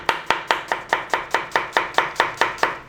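A knife chops parsley on a board for onion salad served with Aleppo-style chicken kebab: a dozen crisp, evenly spaced strokes in a steady rhythm, close and clear, with no talking.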